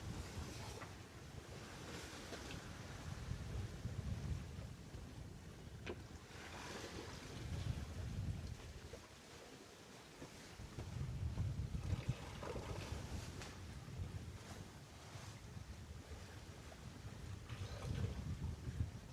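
Steady wind rushing over the microphone, with surging waves washing in a slow rhythm, aboard a solo sailboat crossing the Atlantic Ocean; continuous and fairly loud, no speech.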